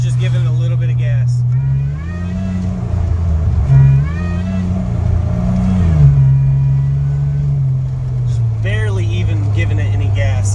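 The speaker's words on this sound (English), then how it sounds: "So here is a little video clip of it driving. Here's just giving it a little bit of gas." Supercharged J35 V6 in a Honda Pilot pulling under light throttle while driving, a loud close engine drone rising and falling in pitch as gas is applied, with talk over it.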